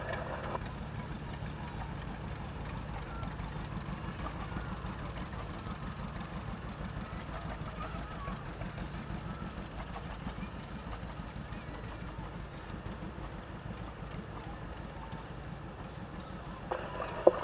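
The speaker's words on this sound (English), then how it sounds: "A 1941 John Deere B" A 1941 John Deere B tractor runs in a 2019 parade in Teutopolis, Illinois, its engine a steady low rumble heard at moderate distance, with voices faintly in the background.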